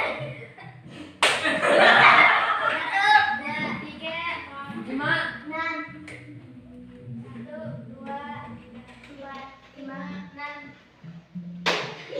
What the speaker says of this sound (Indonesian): yang kebagian nomor 7 itu diganti dengan tepuk tangan